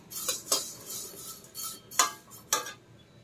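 Flattened rice dry roasted in a pan without oil, heard as a few sharp metallic scrapes and clinks of a utensil against the pan, spaced irregularly and fairly close, with no talking.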